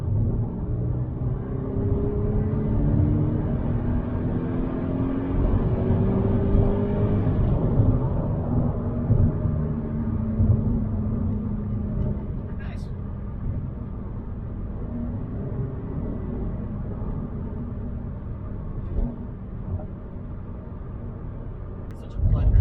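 A Subaru BRZ / Toyota 86 driving on a backroad, heard from inside as a steady low engine and road rumble with gear-change shifts in pitch, continuous beneath someone talking.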